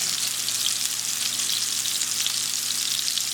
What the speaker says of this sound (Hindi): अब हम इनको फ्राई होने देंगे और फिर इनकी ऐसा से साइड बदल देंगे।